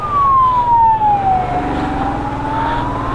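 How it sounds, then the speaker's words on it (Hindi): An ambulance siren wails loudly on a road in Ladakh during a motorcycle trip, a steady descending then level tone riding over engine and traffic rumble, close by throughout. "अरे एम्बुलेंस एम्बुलेंस"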